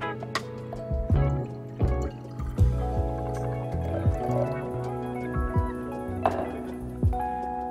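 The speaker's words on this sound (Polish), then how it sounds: "Dolewamy około 100-150" About 100-150 ml of water is poured into a wide-necked glass flask during a science demonstration, giving a series of close splashes, drips and plinks at an irregular rhythm, with no talking.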